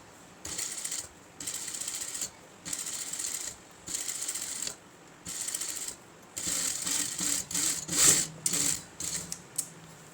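A sewing machine stitching an Aari-work blouse runs in short, close bursts of rapid mechanical whirring, separated by brief pauses, with the later runs longer and busier.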